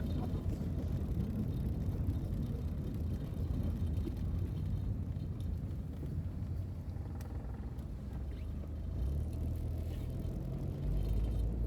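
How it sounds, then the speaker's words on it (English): A car drives through the inner-city streets of Trenchtown in Kingston, its engine and road noise a steady close rumble from inside the vehicle, with faint background voices. "driving through Trenchtown, Rima."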